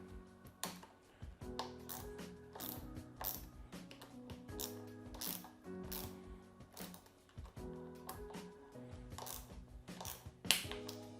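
A hand tool tightens bolts on a Kinesis e-bike during assembly, giving repeated close ratcheting clicks in short bursts with metallic tool and part knocks in between.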